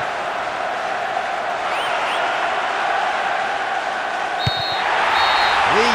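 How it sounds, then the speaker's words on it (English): Stadium crowd roaring steadily at the final whistle of a Pro Evolution Soccer 2008 match on PS2, a loud continuous wash of cheering with a brief whistle blast near the end. "huge roar from the crowd as the referee blows the final whistle"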